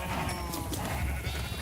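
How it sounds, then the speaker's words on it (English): Sheep bleat in the Minecraft video game with the Create mod installed, a couple of short nasal calls over busy game ambience, fairly close and loud, with no voices. "Sheep, come to me."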